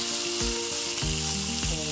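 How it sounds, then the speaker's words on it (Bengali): Rohu fish frying in oil in a pan gives a steady, close sizzle with hiss throughout, and some faint tonal sounds sit underneath. "ভাজা মাছ উল্টায় দিলাম, উঠাই ফেলে কড়া ভাজি দিয়ে দিলাম।"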